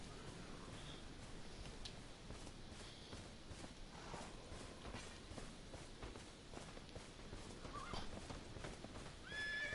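A horse in the video game Elden Ring whinnies several times over steady clip-clopping hooves and background game noise, with a louder neigh near the end.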